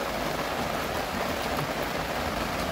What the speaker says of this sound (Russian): Ух ты, дождик прям разошелся